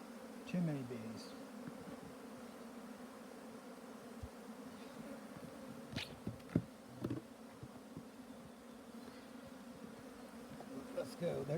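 Honeybees buzz in a steady drone from an open hive colony being worked, with brief rustles and knocks from handling on top, close and moderately quiet.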